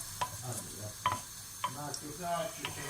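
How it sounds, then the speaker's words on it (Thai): Olive oil and crushed garlic sizzling in a pot as stir-fried shrimp is started, with a steady frying hiss broken by a few sharp stirring clinks and scrapes. "ตั้งหม้อเตรียมผัดกุ้งนะคะ ใส่น้ำมันมะกอกแล้วก็กระเทียมทุบ"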